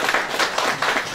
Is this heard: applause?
yes